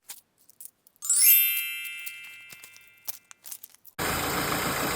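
A Peugeot 307 CC engine idles after a misfire repair: a bright electronic chime rings and fades over a few seconds, then a steady, close, loud engine hum takes over for the final stretch.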